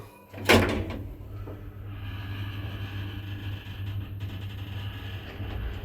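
A sharp clunk as modernized Interlift elevator doors in a ZREMB lift start moving, followed by a steady low motor hum and faint rattling as they slide.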